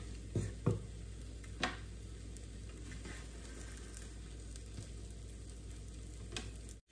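A cha-om omelette fries in oil in a pan in a Thai home kitchen, giving a steady close sizzle broken by a few sharp scrapes and taps near the start.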